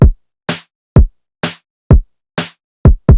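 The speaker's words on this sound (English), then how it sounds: "Next to that, we have the main snare," A programmed snare drum in an FL Studio remake cracks in alternation with punchy kick hits, a crisp, bright snap between each low thump at a brisk, steady pace, with no voices.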